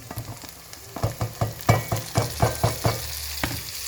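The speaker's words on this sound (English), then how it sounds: "Let's throw the tomatoes in." Tomatoes sautéing in a pot for goulash stew, a steady sizzle broken by a run of rhythmic stirring scrapes and thumps, fairly close and moderately loud with no talking.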